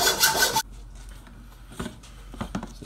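A metal mounting bracket for a large car wing is cut by hand with a saw, giving faint scraping strokes with scattered rasps after a brief loud burst at the start, with no talk.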